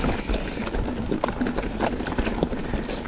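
Mountain bike tires roll over a forest trail with a continuous crunchy rumble and irregular small knocks and rattles, close and fairly loud.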